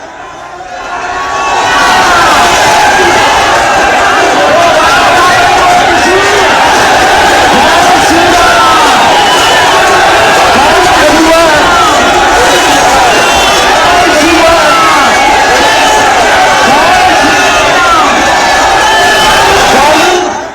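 A huge, dense crowd at Bageshwar Baba's Hindu padyatra, held on its final day in Vrindavan, roars and cheers continuously, with many overlapping voices shouting loudly throughout.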